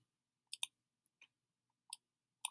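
A computer mouse clicks while a shape is being selected, about five crisp, separate clicks spaced irregularly in near silence.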